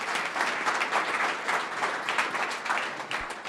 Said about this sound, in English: round of applause for our last presenter.